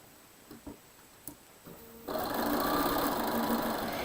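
A sewing machine stitches pieced quilt fabric together, starting after a few light handling clicks and then running in a loud, steady, close whir to the end.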